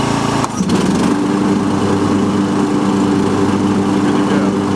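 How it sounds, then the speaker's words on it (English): Snapper NXT lawn tractor with its mower blade engaged, a loud steady engine drone and whirring deck running close by without pause after a brief shift in pitch near the start. "And you also have your PTO for your blade right here, so we'll go ahead and engage that."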